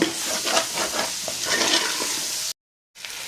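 Mutton pieces fry in masala while being stirred, a close, dense sizzle with scraping texture that cuts out for a moment before resuming.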